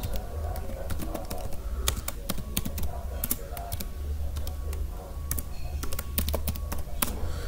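Rapid, uneven key clicks from a computer keyboard as a winget uninstall command is typed, close and fairly clear over a low steady hum, with no one speaking.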